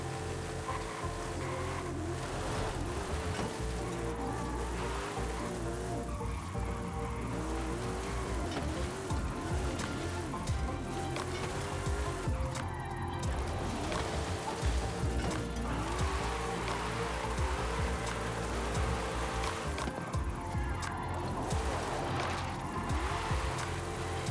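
In a video game, car engines rev and whine continuously while tires squeal in repeated drifting arcs, a busy racing soundscape with shifting pitch throughout.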